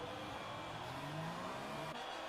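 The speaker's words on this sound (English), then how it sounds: "So the revs are now rising for ABS Tier 1 here at Zandvoort." A race car engine in a racing video game drones at high, steady revs on the grid at Zandvoort before the start, loud and constant throughout with no talk.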